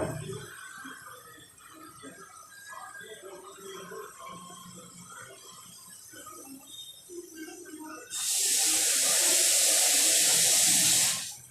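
Water is poured into a thick puri bhaji gravy, a loud steady hissing pour for about three seconds near the end, after quieter kitchen sounds and faint voices.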